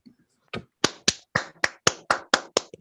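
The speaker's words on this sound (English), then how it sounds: "I hear someone clapping." One person claps close to the microphone at the end of an online lecture session: eight or nine sharp, crisp claps in a fairly steady rhythm after a brief quiet moment.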